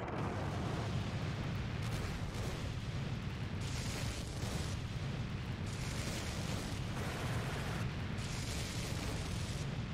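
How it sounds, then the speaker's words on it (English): Bomb explosions in a modded World War-era video game, heard as a continuous dense roar of rumbling blasts and booms that stays steady and loud throughout, with no talking. "Nice 600 bomb there"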